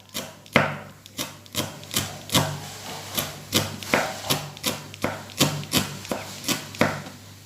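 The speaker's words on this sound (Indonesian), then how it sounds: "Kita potong daun bawangnya. Kita potong kecil-kecil," Knife chopping spring onions into thin slices on a board, a steady run of crisp close taps at a quick, even rhythm with no talking.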